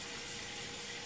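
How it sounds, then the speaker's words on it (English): Water runs steadily from a tap in the background during home wall repair work, a faint, even hiss with no break or voices. "You can hear the water back there running."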